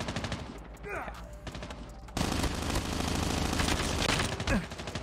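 Bursts of rapid MSMC submachine gun fire in Call of Duty Mobile, loud and close. The first stretch is shorter and broken, then a sustained rattling volley runs to the end, with game effects mixed in.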